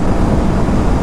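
KTM RC 457 motorcycles cruise in a group along a highway on a Sunday ride, a steady loud wall of engine drone and wind rush with no gaps, close to the rider.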